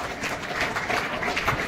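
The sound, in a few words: loud applause at school retirement ceremony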